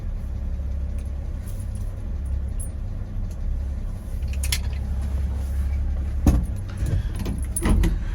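A dog's metal collar jingles in brief bursts near the end as it is removed, over a steady low engine idle from a 1951 GMC truck.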